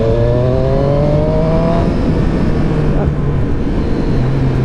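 A Triumph Street Triple 765 RS motorcycle accelerates from a cruise, its engine note climbing steadily in pitch against continuous loud wind rush, close and sustained throughout.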